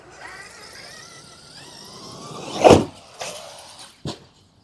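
A radio-controlled car's electric motor whines as it is throttled on a jump, followed by a sharp landing thump, a brief second whir, and another quick knock, all close by.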